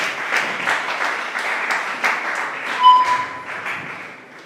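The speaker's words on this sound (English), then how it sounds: "Let's give her a round of applause as well." Applause from a school debate audience, a moderate spread of clapping with clear individual claps and a brief ringing tone partway through, tapering off toward the end.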